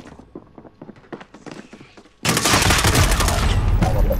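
Video game gunfire: a run of separate sharp shots with pauses in between, then a sudden loud, dense burst of rapid automatic fire that carries on steadily to the end.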